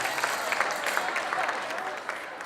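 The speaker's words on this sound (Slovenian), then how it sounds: "Dajmo en lep aplavz." Applause from the audience at an eco quiz results event, a soft, distant, steady patter of many hands clapping that slowly fades.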